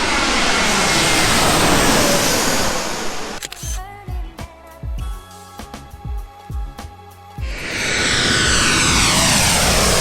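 A low-flying airplane on landing approach passes overhead, a loud broadband roar that drops away mid-clip, leaving a series of sharp clicks, then swells back to a heavy, close rumble for the final seconds.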